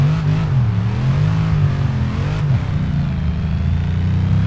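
An old Ford Mustang in Forza Horizon 3 pulls away in second gear, its engine a loud, steady, low drone that rises slowly as the car gathers speed, with no voices.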